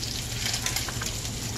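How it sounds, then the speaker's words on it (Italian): Pancetta fries in a pan in a home kitchen. The sizzle is a steady, dense crackle, close and continuous, with no talking over it. "La pancetta sta friggendo"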